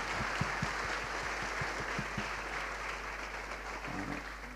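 A church congregation gives applause of encouragement to newly ordained elders, deacons and kwonsas at an ordination thanksgiving service, the clapping fairly faint and reverberant over a steady low hum, with a few louder thumps early on.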